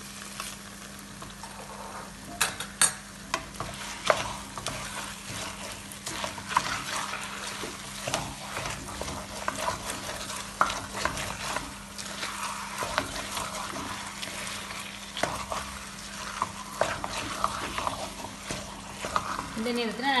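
Thick thothal sweet is stirred in a pan, a steady soft bubbling sizzle with scraping stirs throughout, while a voice talks over it nearby.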